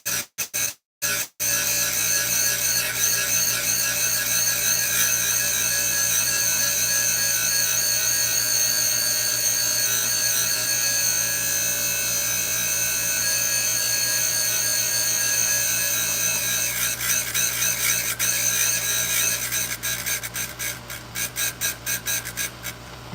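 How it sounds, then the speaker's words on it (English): A small high-pitched rotary tool deburrs engine piston rings inside and out, whining steadily and loudly after a few brief starts, then stuttering on and off near the end. "deburr both sides, all the way around the ring too, inside and out"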